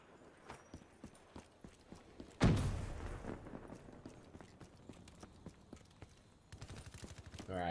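MP-40 submachine gun fire in Black Ops 3, short rapid bursts of snappy shots in a steady rhythm, broken by one heavy blast with a long decaying tail, then more quick bursts, no speech.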